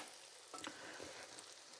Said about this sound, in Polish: jeżeli smażycie je na większej ilości tłuszczu, to po prostu zawsze odsączajcie na papierze